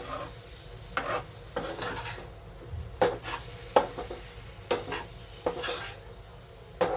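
Tangra fish curry masala with potatoes being stirred in a pan, a steady soft sizzle under repeated scraping strokes of a utensil against the metal, fairly quiet with no talk.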